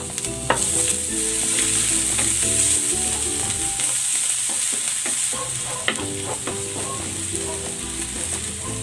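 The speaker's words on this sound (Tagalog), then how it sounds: "Magigisa na ako ng bawang" Garlic and ginger sautéing in a pan, a close, steady sizzle with a bright hiss on top, punctuated by spatula clinks and scraping as they are stirred.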